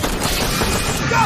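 Dense, loud gunfire and explosions from a real-time strategy game set on a harsh sand planet, a continuous roaring barrage with no gaps.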